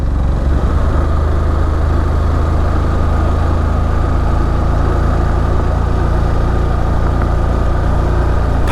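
A heavily overloaded motorbike engine strains uphill on the road toward Darjeeling, giving a steady, loud, low drone close to the rider with no talking over it.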